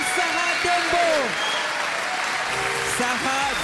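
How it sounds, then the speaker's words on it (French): A crowd at a Miss RDCongo beauty pageant applauds in a dense wash of clapping while voices shout and talk over it. "Applaudissez très fort pour la fille retenue."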